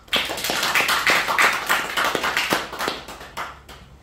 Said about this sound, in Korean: 우리 박수.